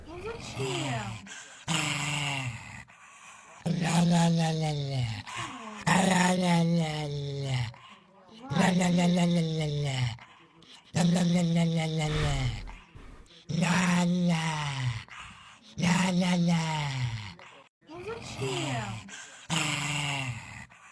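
A dog growls and groans in about eight drawn-out bursts separated by short pauses. The voicing is close and loud, rising and falling within each burst.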